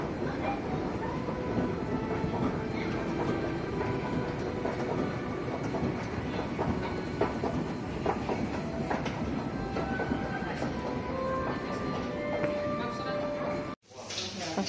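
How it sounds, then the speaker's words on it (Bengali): Metro train ride, a continuous low rumble and rattle of the moving carriage with faint rhythmic clacks and brief squeals, with people talking in the background, ending in a sudden cut. "এখন যাবো মেট্রো করে"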